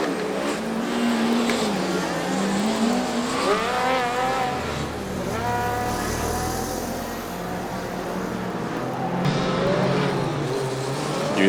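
A Formula Student race car at Formula Student Germany 2019 drives its endurance run, its high-pitched electric or engine whine rising and falling steadily through acceleration and corners for several seconds, loud and continuous with no talk.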